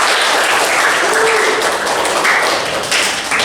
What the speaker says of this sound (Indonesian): kita kasih tepuk tangan untuk